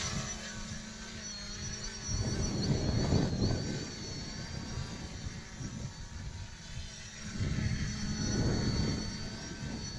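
A JJRC X11 Scouter drone lifts off automatically and hovers nearby, its steady motor whine and rotor buzz swelling louder in pulses as it drifts back and forth, with no talk.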